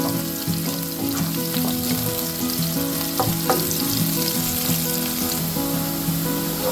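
Onion frying in oil in a pan for a Goan kingfish masala curry, a dense continuous sizzle with occasional stirring clicks, close and loud, no speech.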